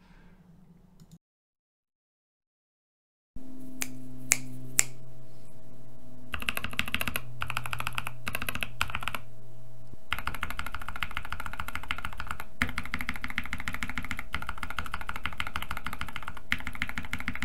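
Typing on a mechanical keyboard with lubed, filmed C3 Kiwi switches makes a quick run of close, crisp keystroke clacks, alone without speech, after a short silent pause at the start.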